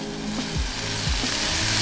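Filipino barbecue skewers sizzle on a grill just after being flipped, giving a dense, loud, close hiss with a few low thumps and clatters from turning the meat, no voices.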